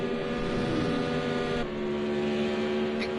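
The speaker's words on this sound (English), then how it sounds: "You hear those Aston Martin engines max out all the way in the trial" Aston Martin race car engines hold a loud, sustained high-revving drone at full throttle during an endurance sports car race at Texas, a steady harmonic whine with a brief dip midway, no talk over it.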